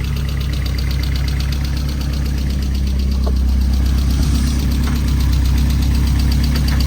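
A Volkswagen Golf GTI MK2 16V in oak green idles steadily right after starting, with a loud, close, continuous engine hum and a rhythmic mechanical ticking running through it.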